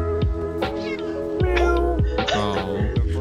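A Minecraft cat meows several times in short, close, repeated cries, a few stretched into caterwauls, with faint voices in the background.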